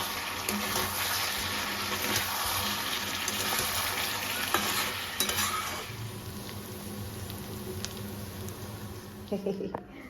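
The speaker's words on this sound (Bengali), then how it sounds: "মাংস কষানো চলছে এখন" Meat sizzling in a pan as it is fried and stirred, a loud, steady frying hiss with scraping stirs that quiets partway through, with a voice talking over it.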